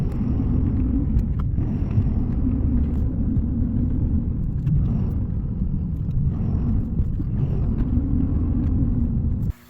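A truck drives along a road, a steady low engine rumble and road roar holding constant from start to finish, with faint ticks above and an abrupt drop at the very end.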